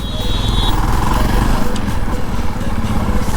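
A scooter ridden fast nearby gives a loud, buzzing small-engine drone that stays strong throughout, with a voice faintly audible beneath it.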